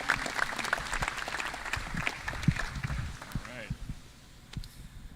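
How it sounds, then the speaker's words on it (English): Audience applause at a 2025 IFL National Championship media event, a moderate wash of clapping mixed with voices and crowd murmur that thins out toward the end. "One more round of applause for Kathy and Larry."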